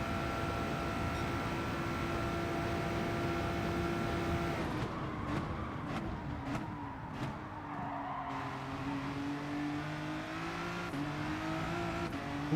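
A race car engine in Gran Turismo 7 holds a steady drone, then revs through a series of quick upshifts with brief drops in pitch before settling into a lower, rising tone.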